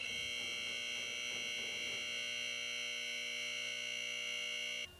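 A Harbor Freight Central Hydraulics 6000 lb scissor lift raising, its electric hydraulic pump motor giving a steady loud hum and whine throughout, cutting off abruptly near the end.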